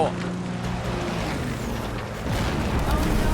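Gunfire and explosions in the Uncharted: Drake's Fortune video game, with deep booming blasts and rumbling under continuous action noise, growing louder toward the end.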